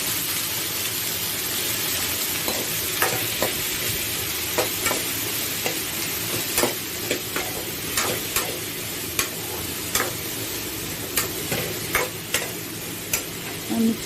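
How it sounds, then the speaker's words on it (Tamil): Eggplant and drumstick pieces fry and are stirred in a pan for a field bean gravy, the spoon scraping in regular strokes every second or so over a continuous, close sizzle. "இந்த கத்திரிக்காய் முருங்கைக்காய் இதெல்லாம் இதில் போட்டு நல்லா மிக்ஸ் பண்ணிக்கோங்க"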